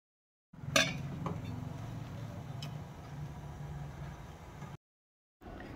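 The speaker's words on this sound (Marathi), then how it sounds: "आता मी इडल्या ठेवतेय करायला आतमध्ये, स्टँडमध्ये ठेवतेय." Metal idli stand being set into a steamer pot on a kitchen stove, with one sharp clink of metal near the start, then a steady low rumble of steam and gas flame for several seconds before cutting out.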